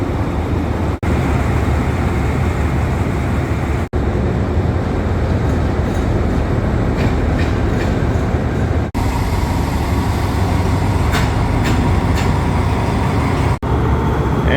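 A steady low rumble of a train pulling away from a platform at Hua Lamphong station in Bangkok, with a broad roar that holds throughout and faint high metallic squeals partway through.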